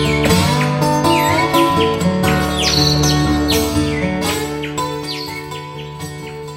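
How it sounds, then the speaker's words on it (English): Shrill, rapid parakeet calls chirp repeatedly over a dense, loud background at the London Wetland Centre, sharp squawks spread through the clip and fading slightly toward the end. "we're obviously in London with the parakeets around"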